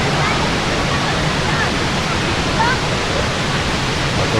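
Batlag Falls in Tanay, Rizal, with water spread wide across the rocks, pouring as a loud, unbroken broadband roar that fills the scene close by, steady from start to end.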